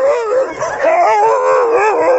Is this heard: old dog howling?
yes